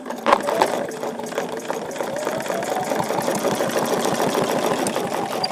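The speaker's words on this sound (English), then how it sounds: "So I'm going to just stitch down to the marked spine and stop." A sewing machine stitches a quilted feather leaf design with a fast, even mechanical chatter of rapid needle strokes. It runs close and steady for several seconds with no talk.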